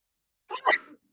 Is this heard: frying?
no